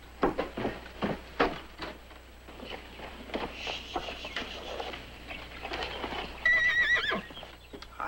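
A horse whinnies amid steady hoof clip-clops on a ranch, the neigh rising loud and shrill near the end over the rhythmic hooves, with faint birdsong behind.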